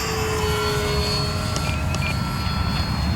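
Electric motor of an OMP Decathlon PNP RC airplane at half throttle in flight, a steady whining hum with faint high tones, continuous and even throughout.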